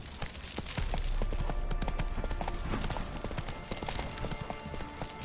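Horse hooves gallop in The Witcher 3, a rapid continuous clip-clop rhythm that stays steady and fairly close throughout, with no talking over it.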